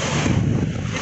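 Strong wind buffets the microphone on a sailboat at sea, a loud continuous low rumble and roar with no break for the whole second.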